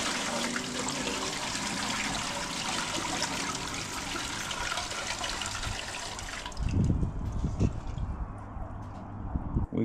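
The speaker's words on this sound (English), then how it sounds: "Gotta add some water to it." Steady broadband rush of water pouring into a canner pot holding jars for several seconds, then the flow stops, leaving clunks and splashes.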